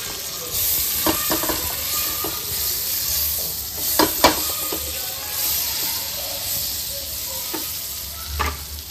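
Butter melts and sizzles in a hot pan for cheese sauce, making a continuous hiss broken by a few scraping stirs, close and fairly loud.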